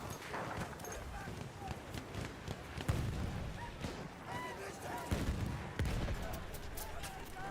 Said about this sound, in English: Where are these bullets coming from?